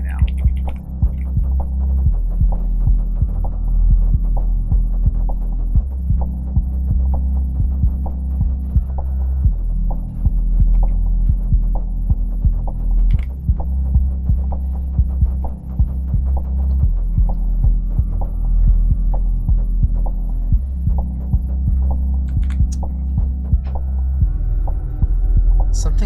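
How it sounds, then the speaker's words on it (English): A 3D printer runs with a loud, heavy throbbing hum, a steady pulsing drone that persists throughout with small clicks and rattles on top, and no voices. "Something sounds violent on the 3D printer."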